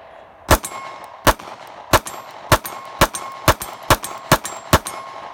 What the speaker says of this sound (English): I'm gonna shoot at least another 10, maybe another 20 or 30 rounds like that with my thumbs on the slide